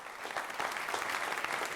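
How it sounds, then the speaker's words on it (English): An audience at a multiple sclerosis medical lecture series applauds the program sponsor with steady, dense clapping from many hands that stays even and moderately loud throughout. "I want you to all give them a round of applause"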